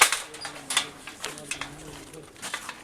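Soft, low cooing pigeons murmur in the background among scattered faint clicks and rustles.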